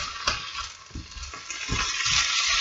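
Garlic and chickpeas fry in a pan with a bright, steady sizzle, punctuated by a few soft stirring thumps.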